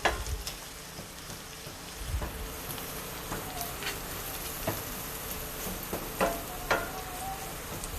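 An egg frying in a pan for homemade poor man's chow mein, a steady soft sizzle running throughout with scattered small clicks and taps of utensils, fairly close and alone without talk.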